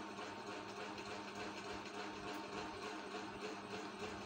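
A sewing machine stitches lace onto the neckline of a shirt, running as a steady, continuous mechanical whir close by with no talking.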